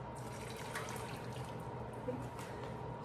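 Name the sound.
hot water poured out of glass jar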